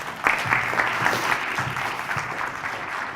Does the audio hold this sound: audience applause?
yes